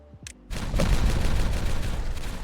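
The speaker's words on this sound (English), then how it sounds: "So let's detonate this." Dynamite detonates in the video game Timberborn, a sudden loud explosion after a short tone, followed by a sustained rumbling crackle of debris.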